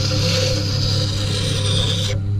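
A wood turning spindle gouge being sharpened, a continuous close rasping grind of steel against the sharpening surface that cuts off abruptly near the end, with no talking.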